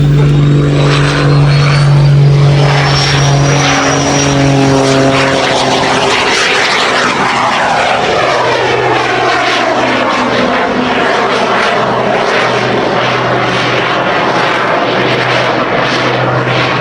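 Aircraft in a flying display at the Duxford summer airshow, a loud sustained propeller and engine drone with shifting pitch as the plane passes, continuous throughout with no talk.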